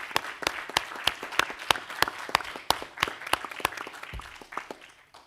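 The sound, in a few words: audience applause at event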